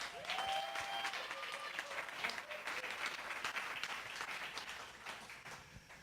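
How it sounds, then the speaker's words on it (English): At a residential energy efficiency symposium, an evening audience applauds a presenter. The clapping is fairly quiet and sounds somewhat distant, with a few brief vocal sounds early on, and it holds steady for about six seconds. "Let's give him a round of applause."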